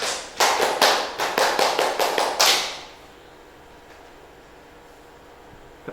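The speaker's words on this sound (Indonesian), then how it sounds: "Tepuk pramuka." Scout clap (tepuk pramuka) at a Scouting training session: about eight sharp, loud hand claps in a quick rhythmic pattern, ending in a final clap, followed by near silence.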